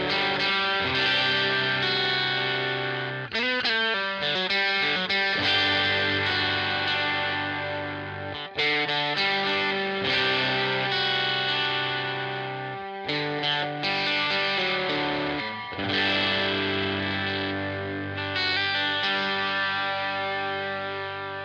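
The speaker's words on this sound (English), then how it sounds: "let's turn on a little overdrive and play with the bridge pickup" An electric guitar strung with Elixir Optiweb strings plays through light overdrive on the bridge pickup, with sustained distorted chords and riffs ringing out close and continuous, occasional short stops between phrases, no talking.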